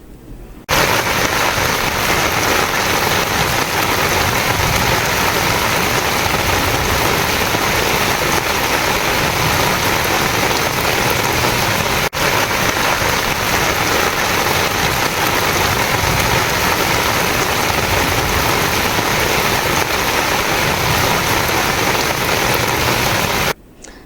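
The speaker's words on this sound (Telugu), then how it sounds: "వర్షం బాగా కురుస్తుండటంతో" Heavy rain pours down steadily, a loud dense continuous hiss of drops drumming on surfaces that holds unbroken for over twenty seconds.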